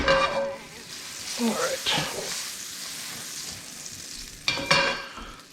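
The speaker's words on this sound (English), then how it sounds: "Butter's just about melted" Butter melting and sizzling in a pan on the stove while mac and cheese is made from scratch; a soft, steady frying hiss runs throughout, with a brief spoken phrase and some utensil clinks over it.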